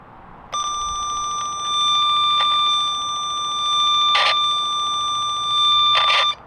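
An IDEAL VDV test tone tracer gives a steady high-pitched electronic tone traced on a cable, loud and close, broken by a few short bursts of crackly static; no talking.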